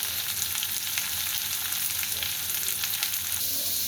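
Onions sauté with a pinch of salt in a pan, giving a steady, dense sizzle and crackle that runs unbroken at close range, with faint stirring scrapes and no voices.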